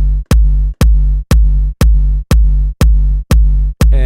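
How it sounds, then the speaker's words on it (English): A loud, punchy big room kick drum made in Cubase 7.5 hits eight times at a steady dance tempo, each followed by a heavy sustained filler bass that fills the gap until the next hit. "And once that kick is gone, then the big room filler bass comes in"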